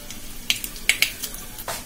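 Dried red chillies dropped into hot oil with popped mustard seeds, close sizzling with several sharp crackling pops and a brief stir, no voices.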